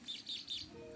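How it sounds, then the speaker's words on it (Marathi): Sparrow chirping outdoors in the Konkan countryside, three quick, high, faint chirps in a row over soft background noise. "चिमणी"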